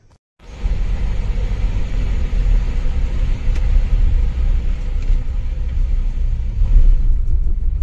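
A booked cab's engine gives off a steady low rumble as the car arrives and idles close by, continuous from start to finish with no voices.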